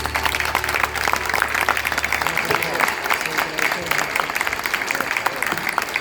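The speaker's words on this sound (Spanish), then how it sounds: "Un fuerte aplauso para Paola Harris." A conference audience at the 3rd Congress of Enigmas and Mysteries of the Cosmos in 2023 gives Paola Harris loud, sustained applause. Dense clapping continues evenly throughout, with a low hum fading out early on.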